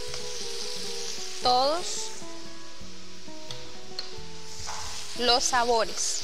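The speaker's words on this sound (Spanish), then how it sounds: "Vamos a revolver de manera en que emulsionen" A mixture sizzles steadily in a pan while being stirred, the hiss constant and close, with two brief bursts of voice cutting in over it.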